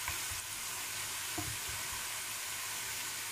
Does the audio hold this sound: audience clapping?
no